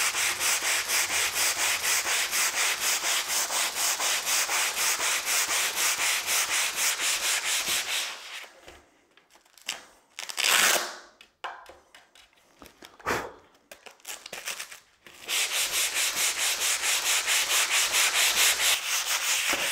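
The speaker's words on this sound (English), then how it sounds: "I've sanded this down now to 400 grit, so it's a lovely and smooth surface." A table is hand sanded using Velcro-backed abrasive on a block, up to 400 grit. Loud, steady rhythmic back-and-forth strokes run for several seconds, pause for a stretch of quieter scuffs and knocks, then resume at full strength.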